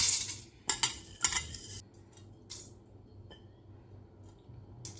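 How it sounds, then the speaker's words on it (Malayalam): Cowpeas dropped into a pressure cooker in a home kitchen, a few sharp clattering rattles and taps in the first two seconds, then quieter, with scattered small clicks. "നമുക്ക് വൻപയർ ഞാൻ ഈ കുക്കറിലേക്ക് ഇടുവാണേ"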